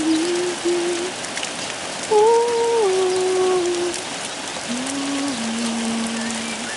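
Steady rain falls after a spell of very hot, dry weather, a constant soft hiss throughout while a voice hums or sings a few long, wavering notes over it.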